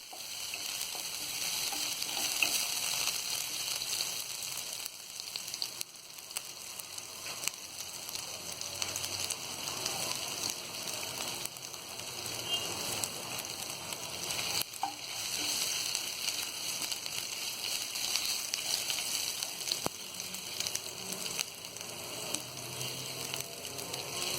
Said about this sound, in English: ginger, let them saute for some time